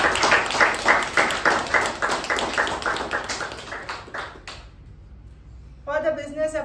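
Clapping at a Toastmasters club meeting, a small group's rhythmic, distinct claps that thin out and fade to near quiet, then a voice starts speaking at the end.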